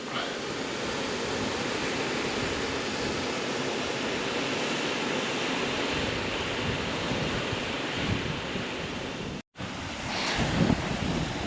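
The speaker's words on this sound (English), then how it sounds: "Here's a very impressive looking waterfall" Waterfall on a mountain stream below Ben Oss and Beinn Dubhchraig in the Scottish hills, a steady, loud broadband roar of falling water that runs without pause, with wind buffeting the microphone and one brief dropout near the end.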